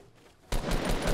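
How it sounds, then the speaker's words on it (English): Gunfire from a revolver or hand cannon in the Fortnite battle royale game opens with a loud, sudden shot after near-silence, followed by a rapid string of several close, punchy reports. "He's shooting at me with like a revolver or a hand cannon or something."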